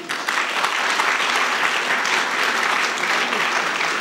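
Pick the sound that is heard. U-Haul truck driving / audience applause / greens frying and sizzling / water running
audience applause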